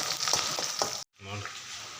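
Broiler chicken pieces with pumpkin, ground coriander and cumin sizzling and frying in oil in a home kitchen pan, a steady close crackle broken by a short silent gap before the frying resumes.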